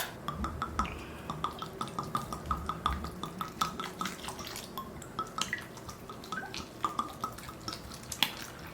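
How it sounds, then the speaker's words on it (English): Water splashes and drips onto soil as potted pothos plants are watered inside a Rubbermaid container, with steady trickling broken by irregular close droplets and occasional light clinks. "Let's water these guys."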